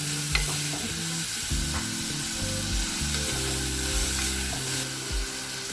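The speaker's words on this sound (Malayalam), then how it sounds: "അതിലേക്ക് അരിഞ്ഞു വെച്ച കുറച്ച് തക്കാളിയൊക്കെ നിങ്ങളുടെ ആവശ്യത്തിന് ചേർക്കാം കേട്ടോ." Chopped tomatoes fry in a pan for a fish curry, giving a steady close sizzle with repeated stirring and scraping throughout.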